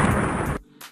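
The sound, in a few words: explosion sound effect, booms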